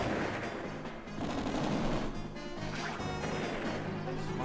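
Artillery attack in Advance Wars: Dual Strike, a dense run of rapid cracking blasts and crashing impacts, continuous and fairly loud.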